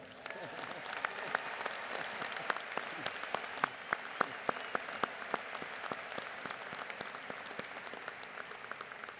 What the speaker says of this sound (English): we probably owe her an extra round of applause